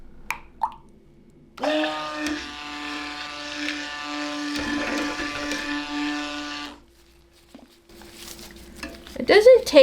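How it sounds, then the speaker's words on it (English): A strong stick blender whirs steadily through a small batch of huckleberry soap batter, a loud harmonic motor drone running for about five seconds between brief clatters, then cutting off to quiet handling noises. "So I'm going to blend this just to a light trace, hopefully."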